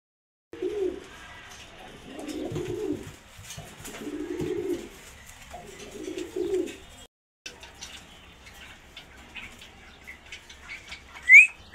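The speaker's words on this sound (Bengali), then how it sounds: "মাত্র 4000 টাকায় 2 পেয়ার কবুতর মাশাআল্লাহ, অনেক সুন্দর 4টা কবুতর" Pigeons, including a Budapest green-neck, coo in repeated soft, low phrases close by, with a few flutters and a sharp chirp near the end.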